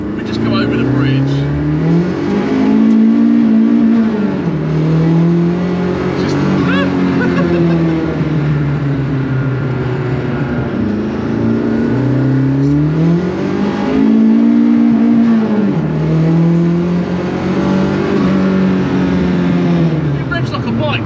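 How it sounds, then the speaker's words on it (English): A Mini Clubman with a swapped K-Series 1.8 turbo engine, about 200 horsepower in a 600-kilo car, revs hard through repeated rising and falling sweeps, loud and close from inside the cabin, with people talking over it. "It revs like a bike, doesn't it? Yeah, it's revvy."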